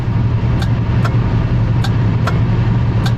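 Inside a 1973 Buick Electra 225 with a 7.5-litre V8, the turn signal relay gives sharp, loud mechanical clicks at a roughly even pace, about five over a few seconds, above the steady rumble of the idling engine.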